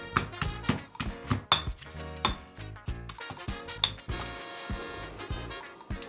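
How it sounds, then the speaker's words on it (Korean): Coriander root, black pepper and garlic are pounded in a mortar for Thai braised pork leg, making a run of irregular knocks and ringing clinks, close and fairly loud, that thin out near the end. "고수 뿌리와 후추 마늘은 절구에서 잘 빻아주시고요"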